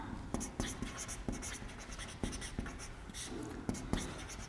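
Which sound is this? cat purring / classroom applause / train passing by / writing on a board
writing on a board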